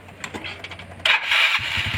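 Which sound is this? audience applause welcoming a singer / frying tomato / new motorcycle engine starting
new motorcycle engine starting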